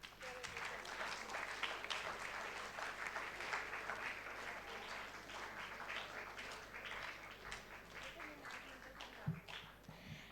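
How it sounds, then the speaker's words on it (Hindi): Sustained audience applause at a Hindi debate competition, dense, even clapping from a seated crowd lasting about ten seconds, fairly faint and uniform throughout. "दोनों हाथ जोड़कर तालियां भरपूर करें"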